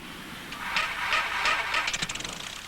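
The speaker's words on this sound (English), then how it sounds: "An engine-driven propeller pushes air backwards." The engine-driven propeller of a light aeroplane gives a short, steady buzzing drone that rises slightly and then pulses into rapid beats as it fades.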